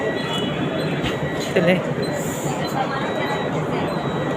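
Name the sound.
AC local train starting, Virar to Churchgate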